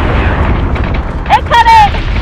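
Ship weapons fire in Battlestar Galactica Deadlock, a dense rumbling barrage of booms and bursts with a sharp pop near the end, heard close and loud.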